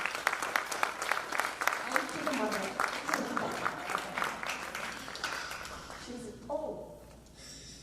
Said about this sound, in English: a round of applause to the artists and the debutantes